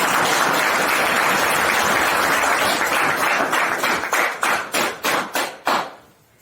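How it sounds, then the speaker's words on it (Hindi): An audience at a Hindi-language health and nutrition talk breaks into dense, sustained clapping that thins into a handful of separate, distinct claps before stopping. "बहुत अच्छा है, ताली होनी चाहिए।"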